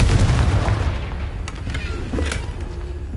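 A Confringo blasting spell explodes in the Hogwarts Legacy video game, a loud booming blast that fades into a rumbling tail with a few faint crackles.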